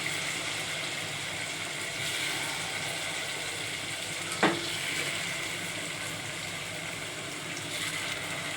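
Onion and cumin seeds frying in a pan, a soft continuous sizzle with one brief sharp clink midway, steady and close, no talking.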